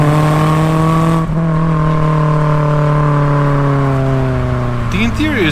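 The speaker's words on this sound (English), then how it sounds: "And the noise this car makes is awesome." Engine note from a supercharged Toyota hot hatch, a steady loud drone with clear harmonic bands held at constant revs, shifting near the end as the pitch changes, heard up close.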